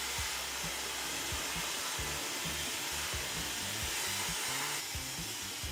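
A hair dryer runs at close range, a loud steady airy rush with a low motor drone and faint irregular rustling underneath.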